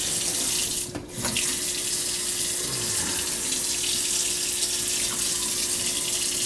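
Water runs steadily from a leaking kitchen sink faucet in a constant close hiss and splash, broken once near the start by a brief clunk of handling at the fixture.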